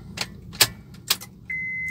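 Key jangling in the ignition of a 2009 Honda Freed Type S automatic, three sharp metallic rattles followed by a steady electronic tone as the ignition turns on, close and fairly quiet.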